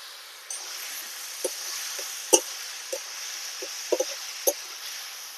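Ginger, garlic and green chili paste fries in a pan, giving a steady soft sizzle with a few sharp pops and clicks scattered through it, near and fairly quiet, with no talk.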